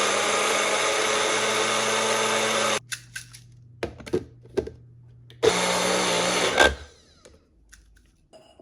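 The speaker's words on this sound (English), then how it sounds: "Very first thing we're going to do is to grind our oatmeal." A blender grinds oatmeal into oat flour with a loud, steady whirring roar for almost three seconds. A few short pulses follow, then a second sustained burst of grinding that winds down.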